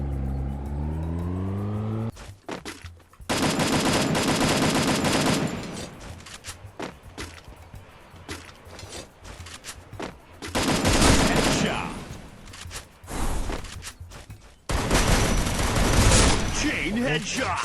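Bursts of rapid gunfire and explosive blasts with engine revving in Free Fire, interspersed with quieter stretches; game combat sounds, loud and dense.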